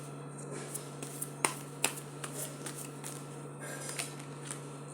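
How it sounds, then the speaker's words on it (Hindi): Tarot cards slipping and dropping while being shuffled, a series of sharp light slaps and flicks scattered over a steady low hum, close and fairly quiet. "Cards गिर रहे हैं guys"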